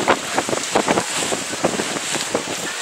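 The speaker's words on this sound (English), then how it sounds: "And as I said, strong rain" Strong rain and gusting wind at a cold border camp in Macedonia, a dense broadband hiss with buffeting wind bursts against the microphone throughout, loud and close, with no voices.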